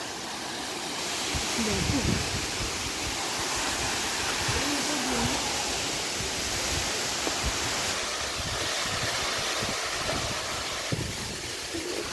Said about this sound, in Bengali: এই সারাক্ষণ এইভাবেই জল পড়ে যাচ্ছে।